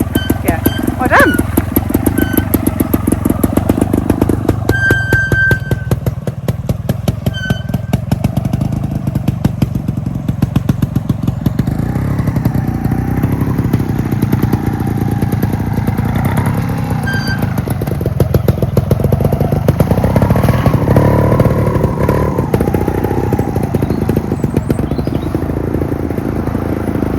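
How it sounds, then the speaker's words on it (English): Trials motorcycle engine ticking over at a very low idle, a steady close putter throughout while people talk over it. "the other thing about a trials bike is the idle's really low"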